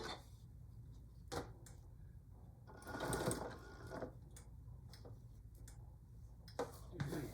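A sewing machine stitches a potholder in short, quiet bursts of rapid ticking, separated by pauses and small handling clicks as the fabric is shifted and pushed under the needle.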